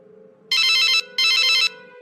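A telephone rings in two loud, even electronic bursts separated by a short gap, over a faint low background hum.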